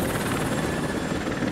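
A helicopter's rotor thumps in a steady, loud churning drone during a chase in the video game Rise of the Tomb Raider, with no voices over it.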